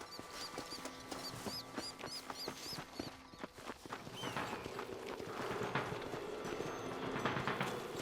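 Rapid, rhythmic clip-clop of horse hooves trotting along in the video game Red Dead Redemption, with a rumbling background of movement and other game sounds building underneath.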